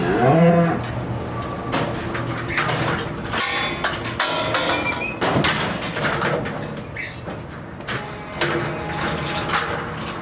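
A cow moos loudly nearby at the start, then steady barn noise with clanks and rattling of metal gates and equipment continues throughout.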